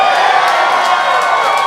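A live comedy show audience cheers and whoops loudly together, a dense, sustained roar of many voices with scattered claps.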